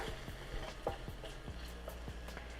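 A spoon stirs sesame oil around a pan for garlic soy chicken, giving a steady run of soft, quiet scraping clicks over a constant low hum, with no voices.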